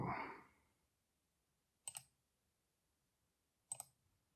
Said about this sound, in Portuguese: Aí dou 2 cliques e ele vai abrir o Anytype